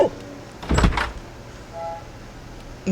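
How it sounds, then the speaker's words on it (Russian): Sherlock opening a door in Sherlock Holmes: Crimes & Punishments, a brief mechanical creak and clunk in the middle, with faint ambient hum around it. "посмотрите, как Шерлок дверь открывает"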